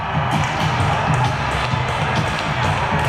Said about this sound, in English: That gets the crowd on their feet.